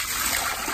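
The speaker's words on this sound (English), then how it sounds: "We actually pour some water from the bucket itself." Salt water poured from a bucket into a container to make an ice bath for mantis shrimp, giving a steady close trickle and splash for under a second with no talk.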